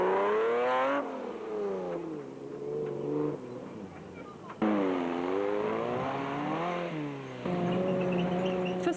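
Toyota Hilux race trucks come under starters' orders at the Stokkiesdraai 200 off-road race, engines revving loudly in rising and falling sweeps, with a strong nearby roar that surges again after a brief dip.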